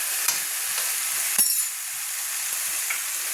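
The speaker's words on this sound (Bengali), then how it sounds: "দিয়ে ভালো করে নেড়ে নিচ্ছি।" Spices are stirred into papaya hajari curry in a pan, giving a steady sizzling fry with a sharp clink of the spoon against metal partway through.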